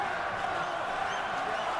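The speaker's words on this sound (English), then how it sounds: "The crowd trying to urge on Pascal." A boxing arena crowd roars and cheers for Pascal in the Hopkins vs Pascal fight, a dense, distant murmur of many voices that stays steady and fairly faint.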